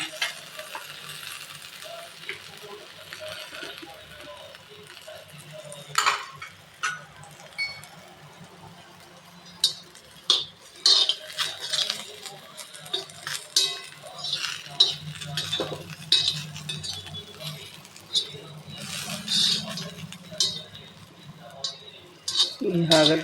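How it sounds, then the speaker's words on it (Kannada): Bitter gourd fries in oil in a pan while a metal spatula stirs it, producing repeated clinks and scrapes against the pan over a low sizzle, with some talking. "ಹಿಂಗೆ ಹುರಿದು ಫ್ರೈ ಮಾಡೋದು ಹಾಗಲಕಾಯಿ ಪಲ್ಯ"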